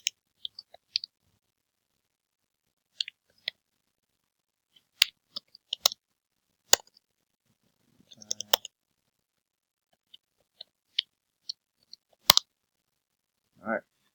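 Password keys tapped on a computer keyboard, sparse isolated clicks in small clusters with long quiet gaps, close and fairly faint.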